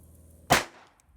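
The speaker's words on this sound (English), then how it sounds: "We're going to first shoot the antique load from the 1970s." A single gunshot from an antique 1970s .22 short load cracks sharply, close and loud, then fades quickly into a brief decay.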